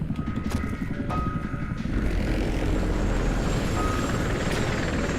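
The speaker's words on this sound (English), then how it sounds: "So I guess it's a helicopter sequence." A helicopter in the video game F.E.A.R. 2: Project Origin, heard as a steady, loud rotor and engine roar that fills the scene throughout, with faint game tones drifting above it.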